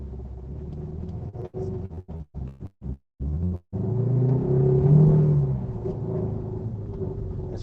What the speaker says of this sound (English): When I accelerate, let off the accelerator, and then accelerate again right away, I can hear kind of an engine sound, transmission-y, engine-y sound